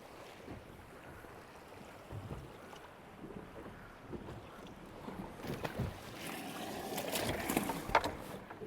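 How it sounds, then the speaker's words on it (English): Gusty wind buffets the microphone on a bass fishing boat out on a lake, a rough rumbling noise that builds louder toward the end, with some water and boat knocks underneath. "Will you make the wind stop?"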